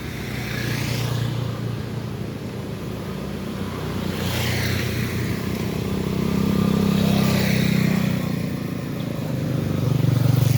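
A truck passing on the road, its low engine rumble swelling and fading against steady traffic noise, heard up close and fairly loud with no talking.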